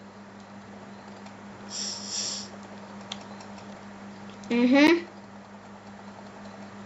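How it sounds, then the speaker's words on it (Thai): A computer mouse is clicked rapidly while playing Blox Fruits. Light, quick clicks tick along in the background, and a man makes brief vocal sounds between them. "ตอนนี้คลิกเมาส์อย่างรัว"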